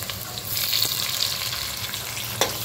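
Onion sizzling as it sautés in a pan, a steady hiss with soft crackles and one sharper pop near the end, close and continuous with no talk.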